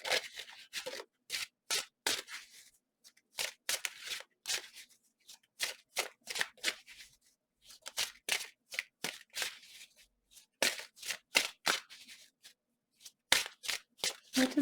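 Tarot cards are shuffled in quick riffling bursts, crisp papery flutters that come in clusters separated by short pauses, close and fairly quiet, with no voice heard.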